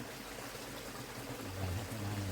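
Water in a stream near a waterfall runs with a soft, continuous rushing trickle, fairly faint and distant, swelling slightly toward the end.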